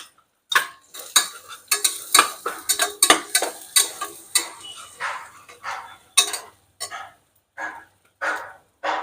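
Ingredients with turmeric for a horse gram usal are sautéed over a full gas flame, producing repeated scraping and clattering stirs of a utensil in the pan, in short uneven bursts with brief pauses.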